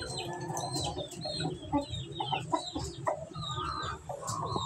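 Chickens clucking close by on a farm where the birds are kept for breeding, with a steady run of short clucks and squawks from several hens.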